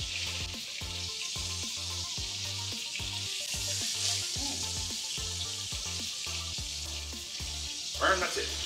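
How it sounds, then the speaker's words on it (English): A scorpion-pepper burger patty sizzling on a hot surface, with a broad steady hiss running under a loud repeating low rhythmic pulse, and a brief clatter near the end as it is flipped. "now once you have flipped the burger and the other side is cooking"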